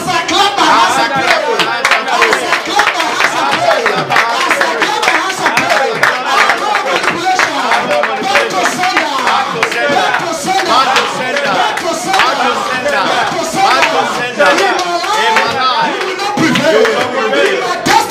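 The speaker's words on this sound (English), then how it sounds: "As I clap my hands, I pray." Hands clap steadily through a fervent prayer meeting, dense crowd clapping and shouting voices running loud and continuous from start to end.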